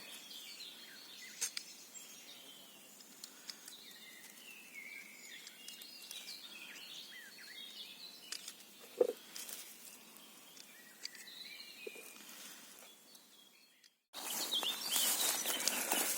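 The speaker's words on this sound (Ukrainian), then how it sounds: "Пташки гарно співають." Birds singing in a forest in Rivne region, Ukraine, with scattered chirps and short song phrases at moderate distance, followed near the end by a sudden burst of close rustling noise.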